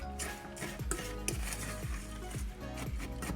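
Graham cracker crumbs being stirred and crushed in a pan for a banoffee pie base, giving a steady scraping and rustling with light sizzle and repeated utensil knocks against the pan.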